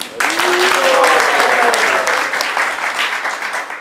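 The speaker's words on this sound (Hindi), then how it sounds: "सब उनका तालियां बजा के स्वागत कर दो।" Devotees at a spiritual discourse in Govardhan clap to welcome newcomers, a loud burst of group applause starting abruptly and sustained for a few seconds, with a raised voice briefly heard through it before it softens.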